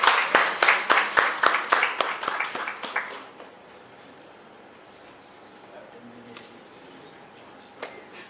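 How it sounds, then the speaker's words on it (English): A brief round of rhythmic clapping from a small workshop audience honoring the chief guest, crisp and close for about three seconds before fading into quiet room murmur with a few scattered noises. "A big round of applause for our chief guest"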